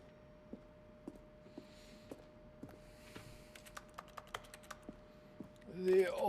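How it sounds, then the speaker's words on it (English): Button-press sounds from the video game The Stanley Parable, each a keyboard stroke blended with a synthesized tone. About a dozen quiet clicks arrive at steady intervals and then faster, ending in a brief louder burst. "Each sound is a mix of a keyboard stroke and a synthesized tone."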